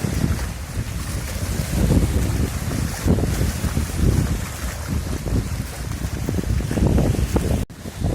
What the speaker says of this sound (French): Quel dommage qu'il y ait du vent aujourd'hui